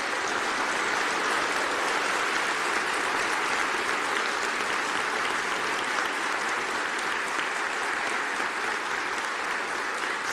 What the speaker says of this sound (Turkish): Şimdi bu kadar yüksek sesle alkışlıyorsunuz